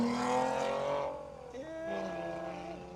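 A manual BMW E46 with a 2.5-litre six and loud exhaust drives past, its engine note rising and falling through revs over a few seconds, fairly close and prominent with no talk over it.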